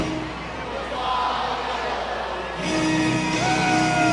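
A full-capacity stadium crowd at George M. Steinbrenner Field in Tampa, at a Savannah Bananas versus Party Animals baseball game, roars and cheers. Yells and whistles swell louder partway through, with some talk underneath.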